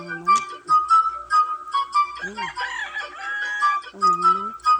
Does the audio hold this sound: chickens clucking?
yes